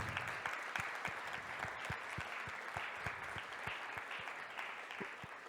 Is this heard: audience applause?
yes